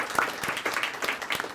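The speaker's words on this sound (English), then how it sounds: "Just give him another round of applause." An audience at a school Student of the Month recognition claps in a brief, dense burst of applause, steady and moderately loud.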